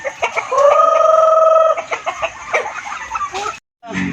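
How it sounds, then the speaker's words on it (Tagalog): Several chickens cluck and call nearby on a farm, with a rooster-like drawn-out call early on, some background voices, and a brief silence near the end. "ang mga manok natin"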